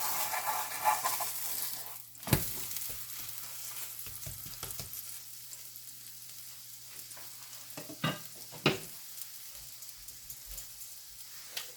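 A stuffed paratha fries in oil on a pan, a steady close sizzle broken by a few spatula knocks and scrapes, gradually settling to a softer hiss.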